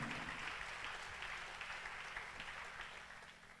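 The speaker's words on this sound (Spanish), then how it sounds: "Dele fuerte el aplauso al Señor." A church congregation claps steadily in praise, a dense, even wash of applause lasting the whole stretch, with a low sustained hum underneath and no voices over it.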